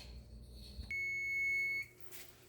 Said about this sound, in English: the alarm is going off